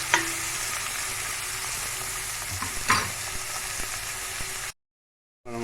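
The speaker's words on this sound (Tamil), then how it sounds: "ஒரு பொன் நிறமாக வர வரைக்கும் லைட்டாக வதக்கி விடணும்." Food sizzles steadily as onions and spices for an egg gravy are sautéed in a frying pan, with a few soft stirring scrapes; the sound cuts out briefly near the end.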